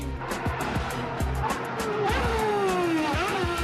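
A powerful car revs hard and accelerates, with tires squealing and rising engine pitch sweeping upward through the clip, loud and close, with no talk.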